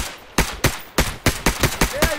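Rapid rifle gunfire in a survival shooter game, a run of about nine sharp, loud shots in an uneven burst rhythm, close and dry, with no talking.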